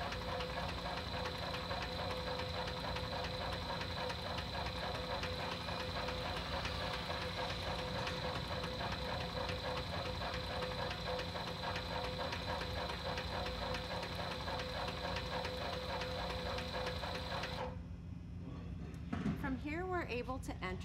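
An AGI Storm FX machine runs a calibration test with a steady, loud mechanical hum and rapid knocking drone that continues without pause, then drops away near the end, leaving brief faint noises.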